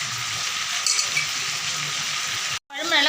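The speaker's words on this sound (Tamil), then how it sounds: "இங்கே பாருங்கள், சூப்பராக மீன் பொரிச்சிட்ருக்கேன்" Fish frying in a pan for a home-cooked meal, a steady bright hiss of hot oil crackling close by throughout, broken by a brief dropout near the end before the sizzle resumes.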